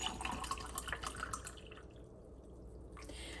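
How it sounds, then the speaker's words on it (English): Water from a tap trickles and drips into a glass being filled, a quiet liquid splash that fades after a couple of seconds, with no talking. "Now I'm gonna fill the glass of water."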